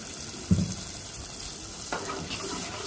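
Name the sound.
water added to frying spices, sizzling and stirring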